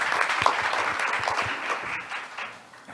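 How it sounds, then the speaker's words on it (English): Applause from a conference audience at the Asia-Pacific ADR Conference, a moderate crowd clapping steadily and then tapering off toward the end. "please welcome him with a big round of applause"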